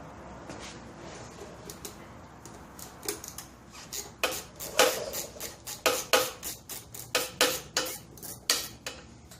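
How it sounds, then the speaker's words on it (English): Ratchet wrench clicking while working on a 1971 Honda CT70 motorcycle, a close series of sharp metallic ticks that starts sparse and builds into quick, loud bursts of rapid clicks with no talk. "How about a ratchet wrench? Always more fun."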